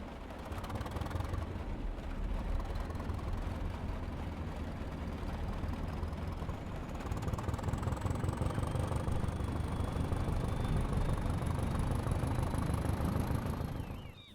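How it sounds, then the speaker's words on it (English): Diesel engine of a Class 205 'Thumper' DEMU running in Train Simulator, heard from the interior view as a steady low rumbling drone that grows slightly louder midway, with a faint rising whine toward the end. "you can clearly hear the engine working away from here"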